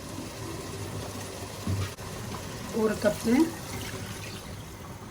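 Water is poured into a bowl of rice, 1.5 cups for biryani, splashing in two short bursts while a person talks over the sound.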